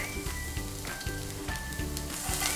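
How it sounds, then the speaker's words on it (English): Oil and chopped garlic sizzling in a pan: a continuous crackling sizzle with scattered small pops and a few thin whistling tones, fairly quiet and steady, with no voices. "into my pan, I'm going to go ahead and add in the oil, some chopped garlic,"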